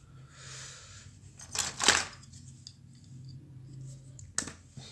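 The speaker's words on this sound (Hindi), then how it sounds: "इस वायर को थोड़ा लंबा करके यहाँ पर काट देना है" Wire for a hanging bulb holder on a homemade series test lamp is snipped to length, giving one sharp cutting snap at close range amid faint handling rustles and a smaller click near the end.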